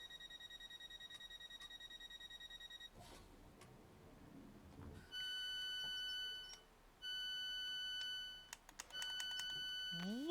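Electronic beeping in a train simulator game: a sustained tone that sounds, stops, then resumes in long steady stretches, with clicks and a short burst of other game noise in between, loud and clear with no talk over it.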